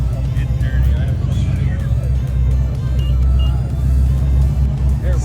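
An LS3-swapped Corvette rumbles with a deep, steady low growl at a cars-and-coffee meet, close and fairly loud, while people talk over it.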